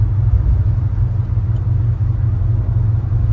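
A 1956 Chevrolet Bel Air's Tri-Power small-block engine hums with a smooth, steady low rumble while driving, close and constant, with no voices.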